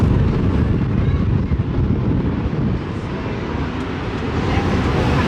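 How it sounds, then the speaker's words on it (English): Strong wind buffeting the microphone at Cedar Point amusement park, a continuous loud low rumble that surges and eases without a break. "Blimey, it is windy here now."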